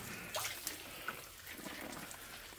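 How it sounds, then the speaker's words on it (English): Water splashing and trickling onto seedlings in an indoor growing space, a steady soft wash with a few brief louder spatters, fairly close and with no talking. "So I'm just going to water everything in here."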